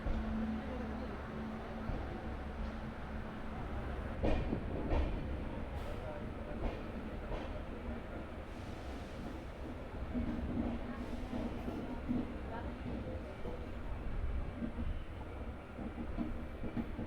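Gurumukhi Superfast Express rumbles through Burdwan at reduced speed, heard from aboard as a continuous low roar with rhythmic clicks and clatters of wheels over rail joints, while a voice talks faintly underneath.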